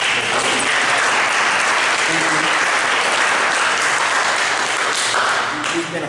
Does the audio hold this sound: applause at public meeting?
yes